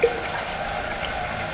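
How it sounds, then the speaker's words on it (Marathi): Water poured over rice grains in a vessel for washing, a short, steady close splashing stream with one sharper onset at the start. "इकडे मी पाणी घेते"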